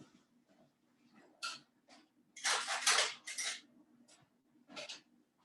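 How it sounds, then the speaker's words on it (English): Spoon and kitchen utensils clattering in a home kitchen during Lebanese cooking, a series of short metallic clinks and rattles, one louder burst of jangling in the middle, fairly close with no talk. "I'll grab a spoon for us."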